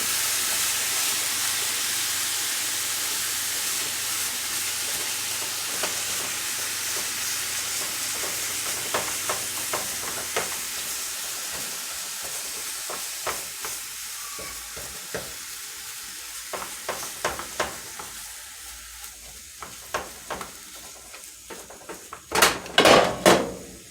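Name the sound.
food sizzling in a pan on medium-high heat, egg roll cooking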